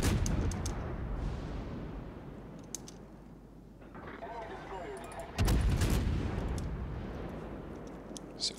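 Heavy naval gunfire from warships in the video game World of Warships, loud booming salvos with a big blast mid-clip, mixed with rumbling game sounds.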